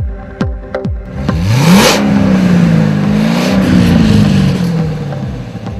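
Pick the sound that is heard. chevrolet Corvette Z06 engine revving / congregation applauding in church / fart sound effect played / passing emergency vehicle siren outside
chevrolet Corvette Z06 engine revving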